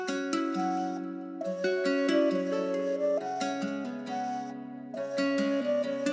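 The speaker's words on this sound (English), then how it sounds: "And then a little bit of variance with the halftime flute." Guitar and flute sample produced in FL Studio, the flute shifting into a slower halftime phrase over the plucked guitar; melodic, clear and continuous with short pauses between phrases.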